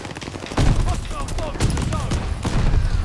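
Rapid bursts of gunfire from a Call of Duty: Vanguard riot shield match crackle throughout, loud and overlapping, with repeated sharp impacts and a player's voice mixed in.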